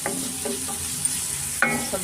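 Capsicum and onion fry in a pan for egg rice, a soft steady sizzle with a few sharp stirring scrapes and clinks, close and alone.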